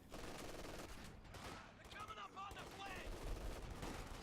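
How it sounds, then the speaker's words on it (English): A light artillery barrage in a real-time strategy war game, a rapid series of muffled booms and crackling gunfire bursts at moderate distance, quiet overall. "Light artillery barrage right outside the base, right where the retreat path is."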